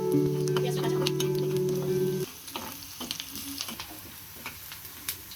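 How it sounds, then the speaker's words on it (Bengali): Onions fry in oil in a pan as they brown for a fish bhuna, giving a steady close sizzle with a low tonal hum at first, then quieter crackling and light stirring clicks. "পেঁয়াজটা ব্রাউন কালার করে তারপরে আমি মশলা দিয়ে দিচ্ছি"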